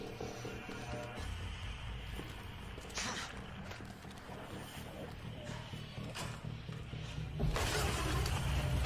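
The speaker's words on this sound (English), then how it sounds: "Gotta have him smashing through the wall." A hulking stalker smashes through a wall in the Resident Evil 2 video game, with a crash of breaking debris at about three seconds and a louder burst near the end over a steady bed of game music.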